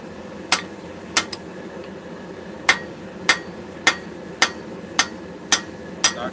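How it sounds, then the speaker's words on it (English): A hammer planishing sheet metal, with nine sharp, ringing metallic strikes at a fairly even, unhurried pace, close and loud over a low background hum, with no talk. "Just do some planishing."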